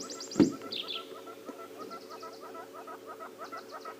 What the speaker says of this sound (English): The yellow-fronted tinker bird.